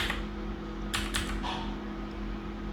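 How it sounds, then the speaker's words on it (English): Keys on a computer keyboard are tapped in a few quick clicks over a low steady hum, faint and close, without any talking. "so let's type 400 x and 400."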